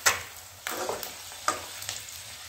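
Eggs frying in oil in a pan for egg curry, a soft sizzle punctuated by four sharp clinks and scrapes of a utensil, close and quiet with no voices.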